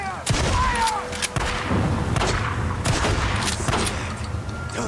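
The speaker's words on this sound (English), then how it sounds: "I just gonna shoot these guys, right?" Gunfire rings out while shooting enemies in Days Gone, a string of loud, sharp shots at irregular intervals with echoing tails and some game sounds in between.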